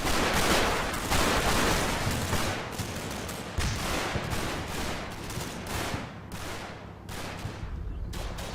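Gunfire in the World War II strategy game Combat Mission: Battle for Normandy, dense overlapping rifle and machine-gun bursts with sharp repeated cracks filling the whole stretch, loud and without talking.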